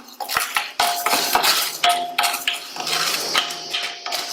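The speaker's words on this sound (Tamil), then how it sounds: "இந்த பருப்பை நல்லா சிவக்க வறுத்துக்கலாம்." Toor dal dry-roasting in a metal pan, heard as repeated loud clinks and scrapes of a spatula against the pan with a dry rattling of lentils between strokes, close and without speech.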